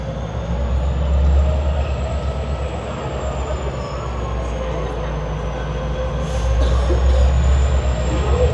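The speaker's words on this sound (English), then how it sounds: "This is the rail corridor heading into Union Station. There it is. GO train." A GO commuter train rumbles steadily along the rail corridor into Union Station, Toronto, deep and continuous, with a faint high whine of wheels above the low roar.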